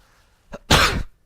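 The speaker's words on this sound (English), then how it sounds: "Very big apologies for the sneeze." A single forceful sneeze bursts out close by, preceded by a brief sharp intake, then silence.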